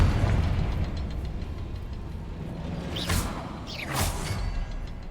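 A Confringo spell in a video game is cast in two quick bursts, each a sharp whooshing blast with a crackling explosive edge, heard over a steady low ambient rumble.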